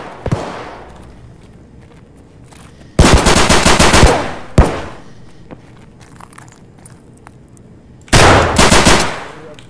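M9 gunfire in a first-person shooter, two loud sustained automatic bursts with a few sharp single shots between them and quiet gaps, close and punchy.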